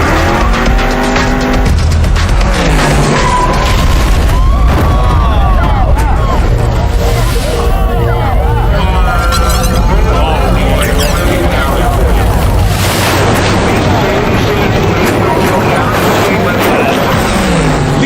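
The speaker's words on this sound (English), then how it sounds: "Lisa collides with Daryl's car and both slam into the concrete barrier." A 2,000 horsepower dragster roars down a race track with screeching tires before colliding with another car and slamming into a concrete barrier, loud and continuous engine noise throughout.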